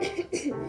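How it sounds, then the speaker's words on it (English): A single rough cough, close and fairly loud, with a short second burst after a brief pause; no talking. A cough drop is not stopping the cough. "Stop this cough."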